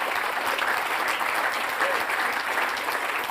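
Audience at an awards ceremony applauding the sponsors, a steady, full round of clapping from a large crowd that holds evenly throughout.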